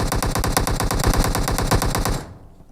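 A machine gun in the PUBG Mobile video game fires a rapid, evenly spaced burst of loud shots for about two seconds before cutting off sharply into quiet.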